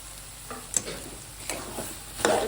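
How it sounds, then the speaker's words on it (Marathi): Puran filling of soft cooked dal and jaggery being sautéed in a pan, a soft low sizzle broken by a few distinct spatula scrapes and knocks, quiet and close with no talking. "छान पुरण आपल्याला परतून घ्यायचंय"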